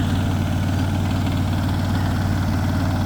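A heavy engine chugs steadily at a low idle-like rhythm, close and continuous, with a throbbing vibration and no voices.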